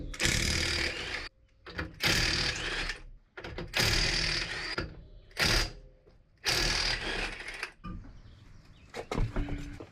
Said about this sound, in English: It's a Ryobi. It's probably the most budget sort of cordless gun you can get